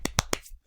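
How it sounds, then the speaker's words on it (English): Three sharp hand claps in quick succession, close and fairly quiet, followed by near silence. "That's me clapping."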